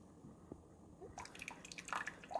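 Keurig K-Cafe brewer dripping coffee on the strong, 6-ounce setting: faint, soft drips and trickling liquid that grow busier partway through, with quiet machine hum underneath.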